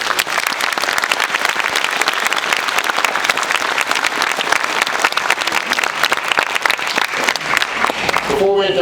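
Audience at a submarine veterans' Holland Club induction ceremony applauding steadily and loudly for several seconds, a dense crowd patter that fades at the very end as a voice begins.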